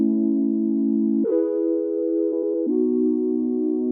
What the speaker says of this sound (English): We've got chords that I play on a sine wave synthesizer.